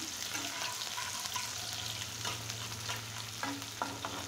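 Freshly chopped onions softening in a hot pan for a spicy prawn dish, with a dense, continuous sizzle and faint intermittent scraping of a stirring spoon, close and steady.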